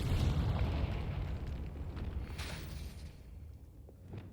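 Confringo fire spell exploding in the Hogwarts Legacy video game: a loud, low rumbling boom that opens strongly, then decays slowly over several seconds with crackling debris.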